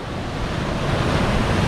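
Waves break and wash continuously at a beach where the tide is running very high, a loud, steady surf rush with wind noise and no voices.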